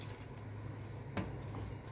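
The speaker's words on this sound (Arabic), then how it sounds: "هزود بقية مية المكرونة" Leftover pasta water is poured into a simmering pink sauce: a soft, steady trickle of liquid with one brief splash partway through, faint and close.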